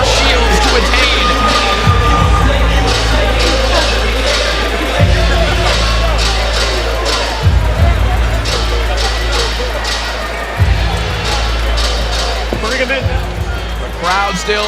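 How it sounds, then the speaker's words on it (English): A boxing arena crowd cheers in a frenzy, a dense continuous roar of voices, with heavy rhythmic low thumps repeating every few seconds underneath. "The crowd still in an absolute frenzy here"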